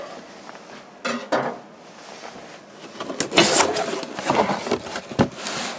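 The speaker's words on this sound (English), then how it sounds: "Cut this again with the rusty knife." Rusty knife slicing open a cardboard box holding a Lodge Sportsman's cast iron grill: scattered scraping and tearing rasps, a few sharp bursts in the middle, close and fairly quiet.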